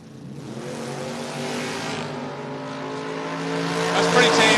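Focarino's Monte Carlo drag race car launching hard at a Door Wars drag race, a loud, sustained engine roar building steadily in pitch and power as it pulls away down the track.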